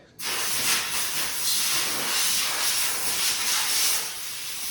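Steady hiss of an aerosol can spraying black paint onto welded D-ring hooks on a skid steer, one continuous close burst lasting several seconds.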